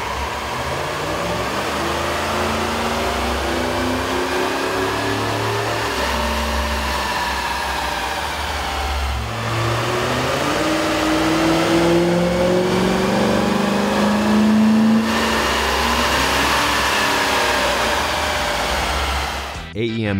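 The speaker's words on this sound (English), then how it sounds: "Here's a comparison of the Ford truck sound on the dyno with the stock OEM system versus AEM's air" A Ford F150 SVT Raptor pickup with a 5.4L V8 and an AEM air intake running on a dyno, a loud continuous engine drone that rises and falls through rev sweeps with whining intake tones across twenty seconds.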